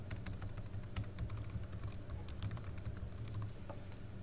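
Quiet, close typing on a computer keyboard, a quick irregular patter of key clicks with short pauses, with no talking.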